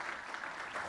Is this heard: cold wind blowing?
no